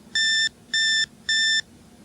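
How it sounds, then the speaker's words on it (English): An IBM PC power-on self-test sounds three evenly spaced electronic beeps, steady and high-pitched, each about a third of a second long with brief gaps, loud and alone. "You'll hear the power supply warm up, then beep for test."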